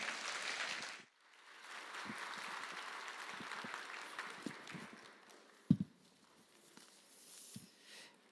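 Applause from a church congregation welcoming the pastor at a Sunday worship service, a steady wash of clapping that fades out, followed by scattered soft knocks and footsteps in a quiet hall.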